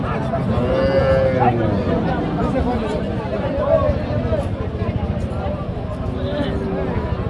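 A thin, bony Sahiwal-cross dairy cow at a busy cattle market in Jessore, lowing in drawn-out moos, with crowd chatter and people talking close by throughout.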